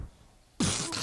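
Near silence, then one sudden loud sneeze, close and abrupt, with a breathy burst that fades quickly.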